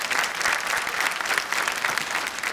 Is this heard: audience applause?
yes